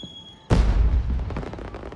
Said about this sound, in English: Really? Ordinary starburst fireworks?